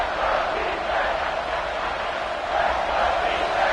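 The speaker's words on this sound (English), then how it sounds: "This crowd knows they have to bring it in big moments" A stadium crowd at a football game roars in a broad, sustained wash of cheering and shouting from all around, loud and continuous.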